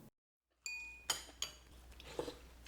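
Dishes and cutlery clinking during a solitary meal, a few quiet, sharp clinks and taps of metal on crockery spaced apart in a hushed room.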